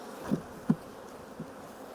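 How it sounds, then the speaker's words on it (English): Honey bees from a strong colony hum around an opened hive during early-season splits, a close steady buzz with a few louder passes as individual bees fly near. "Your bees are nice and strong."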